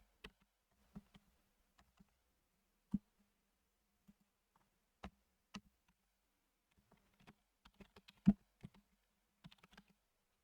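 A computer keyboard clicks sparsely and irregularly as text is typed into a Microsoft Word document, with quiet isolated keystrokes and short bursts close to the microphone.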